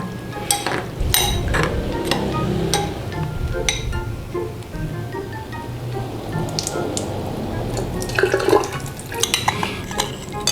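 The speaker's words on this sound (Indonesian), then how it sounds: "Pertama-tama kita mau cuci kacang hijau kupas." Peeled mung beans are washed in water, with repeated close clinks and splashy stirring of the beans against a bowl and soft running water throughout.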